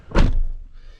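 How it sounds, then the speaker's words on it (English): A single solid thunk of a 2017 Chevy Tahoe SSV door shutting nearby, followed by a brief low rumble and faint hiss as it settles. "I'm gonna go ahead and shut this door"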